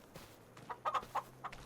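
Chickens in Farming Simulator 25 cluck in a few short, close bursts over a faint background hum.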